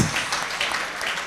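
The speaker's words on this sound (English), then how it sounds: "Let's have a big round of applause" Audience applause at an awards gala for a Northern Uganda film event, a short steady wash of clapping at moderate level with no pauses.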